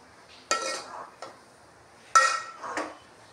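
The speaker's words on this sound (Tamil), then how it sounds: "தக்காளி எல்லாம் நல்லா வதட்டிக்கணும்." Tomatoes being sautéed in a pan, with four distinct spatula scrapes and clanks against the metal over a quiet background. Each scrape is short and nearby, and any frying hiss is faint.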